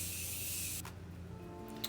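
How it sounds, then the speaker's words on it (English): A close hiss of Morphe Continuing Mist setting spray misted onto a face, one sustained spray lasting under a second, then quiet room tone with a faint rustle. "I'm gonna set my entire face with my Morphe Continuing Mist setting spray"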